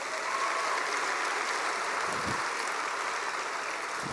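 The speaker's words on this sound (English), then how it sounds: "So we can give her a round of applause" A graduation audience at a high school commencement gives a round of applause, a dense, steady wash of many hands clapping throughout, at moderate distance with no talk over it.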